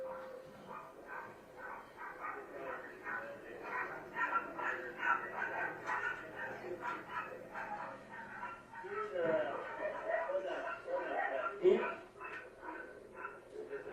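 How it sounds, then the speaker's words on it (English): A dog barking and yipping in recorded footage played back in a courtroom, faint and muffled, with overlapping voices talking throughout. "a dog barking"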